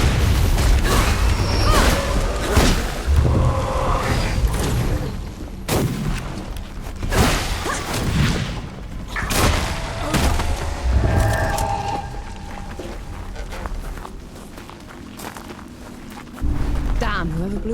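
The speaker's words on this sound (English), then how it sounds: "whoever blew those barrels caused a cave" Barrels blowing up and bringing down a cave in Flintlock: The Siege of Dawn, heard as a series of heavy booms and crashing rumbles spread over the clip, with lower-level rubble and ambience between, then a renewed swell.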